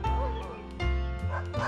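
Dog barking close by, several sharp yipping barks in quick succession with whimpery tones between them, alone without talk.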